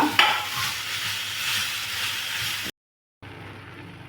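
Onion, tomato and beetroot stirred together in a frying pan, a steady close sizzle with scraping of the spoon, then a sudden short silence before the frying hiss resumes.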